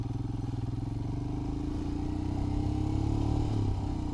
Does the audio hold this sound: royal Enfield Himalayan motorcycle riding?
yes